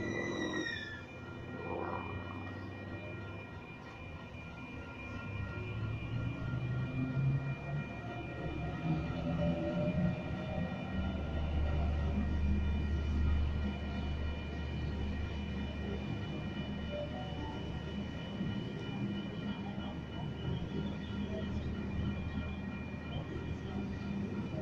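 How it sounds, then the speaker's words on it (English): A6 passenger train departing a station platform bound for Richmond, with a low rumbling roll that grows and holds steady, a faint brake or wheel squeal at the start, and no talking. "now departing from platform number 2, bound for Richmond"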